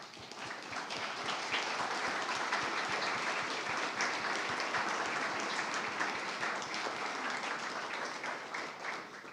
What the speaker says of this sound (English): would you mind standing so we can give you a round of applause?